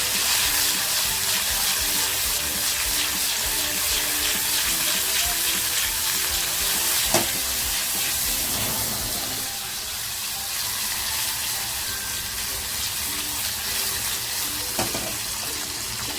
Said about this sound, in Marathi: पॉपलेटला जे मी हळद लावून ठेवलं होतं हळद आणि मीठ ते मी याच्यामध्ये सोडते आहे अर्धे मी फ्रायला ठेवते आहे